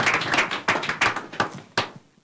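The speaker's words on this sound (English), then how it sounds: "Make una clap for him." Studio audience on the Brekete Family radio-TV programme clapping in a few short bursts, each sharp onset fading quickly, fairly close and moderately loud, with no voices over it.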